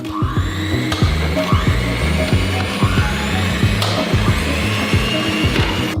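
A steady electric mixer motor whirs continuously, whipping egg whites, with a regular rhythmic clatter repeating underneath throughout.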